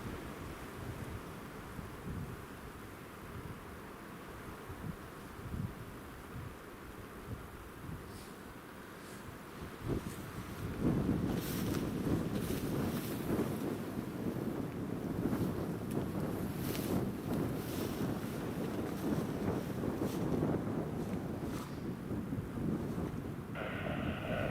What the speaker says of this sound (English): I think it's partly due to the wind.